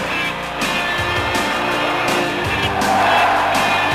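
Monster truck engines roar and tires squeal and skid at a motorsports event, a loud continuous rush of motor noise with screeching slides and no talk.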